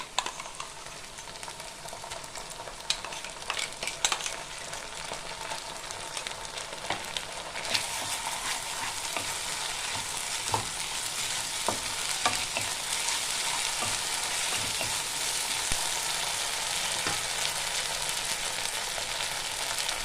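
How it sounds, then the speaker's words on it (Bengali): Steady, bright sizzling of onions frying in a pan for a Bengali soybean curry, continuous and close, with occasional clinks and scrapes early on; no voices. "এটা একটু লাল করে আমি ভেজে নেব। পেঁয়াজটা আমার ভাজা ভাজা হয়ে গেছে।"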